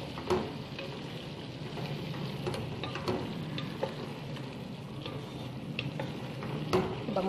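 Spices stirred into chicken salona frying in a pan, a steady close sizzle with scraping spoon clicks and soft stirring scrapes repeating every second or so, no voices.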